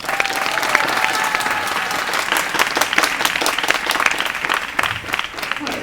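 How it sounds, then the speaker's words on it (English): Loud, dense applause from a crowd at a Kartik Parikrama gathering in Kurukshetra, continuous clapping with faint voices and a tonal sound mixed in early on. "Give her a big round of applause."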